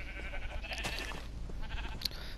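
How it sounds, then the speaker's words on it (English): A lone sheep in the Minecraft video game bleats briefly over a steady background hum, a short wavering game cry standing out near the middle with a faint second sound near the end. "Apparently I have a lone sheep."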